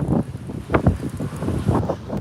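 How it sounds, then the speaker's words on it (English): Gusty wind buffets the microphone in uneven low rumbling surges, loud and close, with no talking, atop a high point in Las Vegas. "Oh, damn, it's windy"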